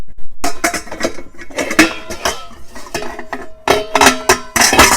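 A tea kettle is handled among dishes and utensils, making loud, close clanks and metallic clinks in irregular bursts with brief quiet gaps, and no voices.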